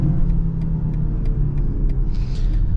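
A 2022 BMW X3 with a 2.0 engine pulls hard in a deep, steady rumble, heard from inside the cabin with no talk.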